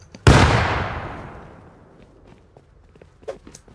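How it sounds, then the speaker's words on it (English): A grenade blast in the primitive survival game Rust: one sudden loud explosion that rolls off into a long decaying rumble, followed by faint scattered clicks and a small later pop. "He threw a nade."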